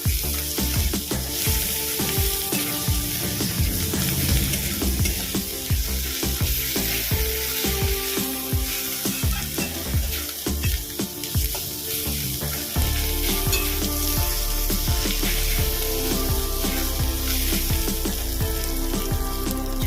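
Ginger-garlic-green chili paste with chili powder and turmeric fries loudly in a pan for chicken rolls, a constant bright sizzle with repeated clattering stirs and scrapes, the frying swelling louder partway through, no talking.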